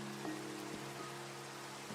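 Steady rain falling in the video game Minecraft, a constant even hiss of droplets with a low tonal hum beneath, continuous and fairly faint, with no talking.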